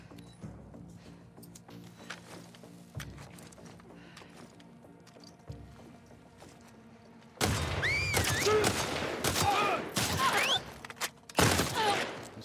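Single-shot rifle gunfire in The Last of Us Part II, several sharp loud cracks arriving in the latter half, spaced irregularly after a quieter stretch of low ambient rumble and faint thuds.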